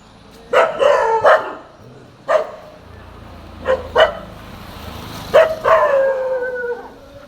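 Street dogs by a roadside in Barisal barking in the morning, several loud close bursts of barking and yelping at irregular intervals over quiet background.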